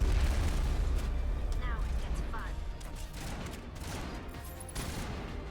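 Gunfire and explosive booms in a Mass Effect battle, a dense rumbling barrage with scattered bursts, under a person talking throughout.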